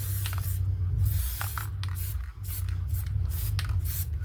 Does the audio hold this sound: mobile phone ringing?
no